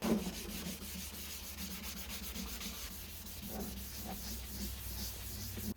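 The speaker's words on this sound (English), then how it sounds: "Next up is sanding." Steady back-and-forth sanding with fine 1000 to 3000 grit paper, a soft continuous rubbing hiss in short rhythmic strokes, close up with no talking.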